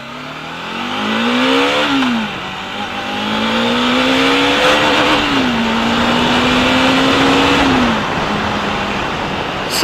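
A Bajaj Dominar 400 motorcycle engine revs hard and loud, climbing repeatedly to the rev limiter and dropping back in several sweeping pulls, the tone rising and falling close by with no talking.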